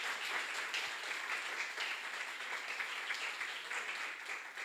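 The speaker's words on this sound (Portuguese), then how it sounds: "Você pode dar um aplauso a ele?" A church congregation applauds during a sermon on God's grace and mercy, faint and distant, a sustained wash of many hands clapping at an even level.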